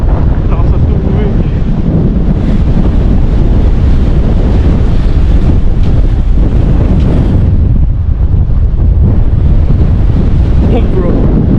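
Strong ocean surf surges and crashes loudly and continuously along the rocky coast at Big Sur, heavily mixed with roaring wind buffeting the microphone.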